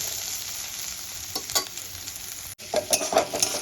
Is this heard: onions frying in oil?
yes